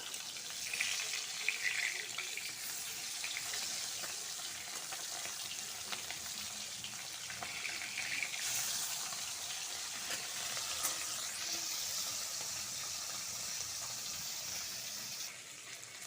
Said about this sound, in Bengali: মাছটাকে উল্টে পাল্টে ভেজে নিচ্ছি